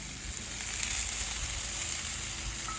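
Chicken and cabbage stir-frying on a hot Blackstone griddle give a steady, close, loud sizzle with a few brief bursts of stirring, heard without any talk.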